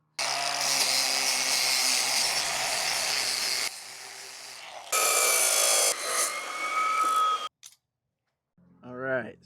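Power tool cutting roughly inch-long tabs off a length of steel angle iron for a windstorm gate repair, a loud sustained grinding whine that cuts out in stages with brief pauses and trailing clatter.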